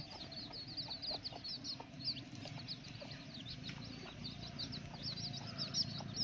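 Small chickens cluck and chirp in a steady, busy chorus at an eco-tourism site near a dam and forest, close and continuous with no talk.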